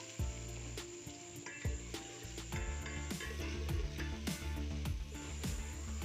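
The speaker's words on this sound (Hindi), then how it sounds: "इसके अंदर 1 चम्मच ऑयल का और प्याज डाल के फ्राई कर लेते हैं।" Onions fry in a spoonful of oil in a pot, a close, steady sizzle broken by a few clinks and stirring knocks.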